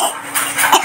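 A person coughs once, short and close, alone in an indoor setting.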